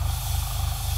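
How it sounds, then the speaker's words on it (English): Continuous hiss of paint being sprayed from an airbrush or spray can onto a scale model, steady and close, with a low hum underneath. "We could actually spray that, right?"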